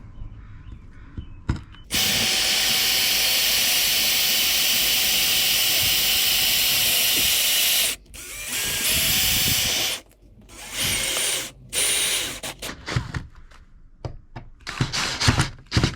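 A power drill drives screws through a frost-free hose bib fitting into wood behind it, making a long loud continuous whine followed by several shorter bursts and pauses, with no talk.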